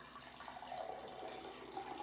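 Water being poured into a drinking glass for a water-glass xylophone, a faint continuous trickle and splash filling the glass, quiet and close.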